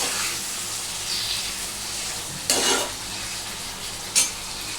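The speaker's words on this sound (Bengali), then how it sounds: "এটাকে এখন আমাকে সুন্দর করে নাড়াচাড়া করে একটু ভাজতে হবে" Boneless chicken in gravy sizzling steadily in a pan, with a couple of louder scraping stirs of a spoon breaking through the continuous frying hiss; no one talks.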